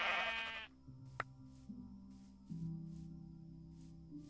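Sheep in a video game gives a loud bleat that cuts off early, followed by a sharp click and low, steady ambient game tones.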